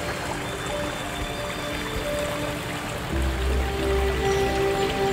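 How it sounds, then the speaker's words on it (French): Water trickles and flows steadily through a created garden stream and water feature beside a small river, a continuous close bubbling wash with no talk over it. "on a créé tout un mouvement d'eau qui anime de manière tout à fait agréable. Vous avez le bruit"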